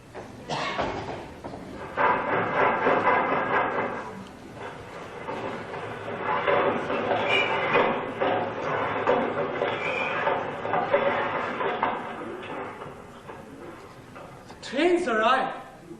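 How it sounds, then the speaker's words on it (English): A train pulls in to arrive, a steady rumbling, clattering roll that swells and holds for several seconds, broken by a heavy slam, with voices rising near the end. "Train's arrived."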